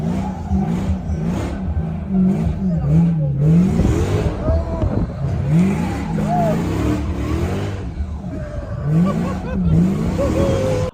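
Car engines rev hard and tyres squeal in drifting show footage, loud and close, with repeated rising and falling engine pitch sweeps and voices talking over the action.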